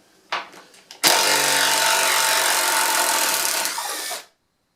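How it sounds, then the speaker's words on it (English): A ToolPRO impact wrench backs out a bolt it just drove, with a few quick clicks followed by a close, loud, continuous buzzing whir lasting about three seconds before stopping abruptly. "Let's now turn to the impact wrench. We'll take out this bolt we've just put in"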